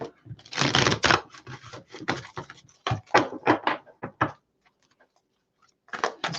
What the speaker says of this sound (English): Let's get a good shuffle in here